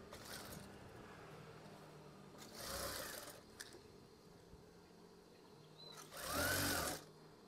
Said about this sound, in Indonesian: Setelah itu, jahit saja secara perlahan.